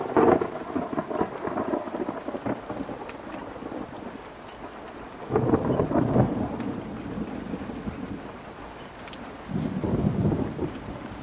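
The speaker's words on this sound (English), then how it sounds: "This is a really unusual storm front that rolled in." Thunderstorm from an unusual storm front with straight-line winds, with steady rain throughout and heavy rolling thunder surging loud twice, near the middle and again near the end.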